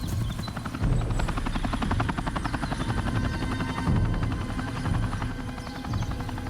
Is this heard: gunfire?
no